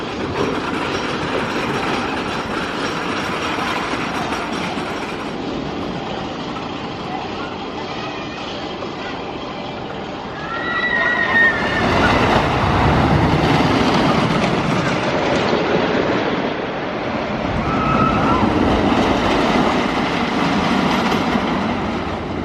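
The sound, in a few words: roller coaster train running at Oakwood Theme Park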